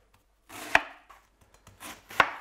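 Kitchen knife slicing through food, probably cabbage and mutton for Norwegian fårikål, with two sharp cutting strikes on a board and softer scraping between them, close and fairly loud.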